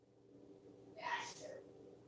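A single sneeze bursts out quite close after a faint low hum, a sharp breathy blast that trails off over about half a second, with quiet breathing around it.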